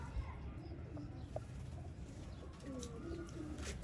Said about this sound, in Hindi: नायाब चपड़े कबूतर आपकी इस टाइम पे स्क्रीन पे मौजूद है